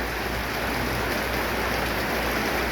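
Steady, heavy rain pouring down outdoors in an even broadband hiss with no letup, loud and close throughout and with no voices over it.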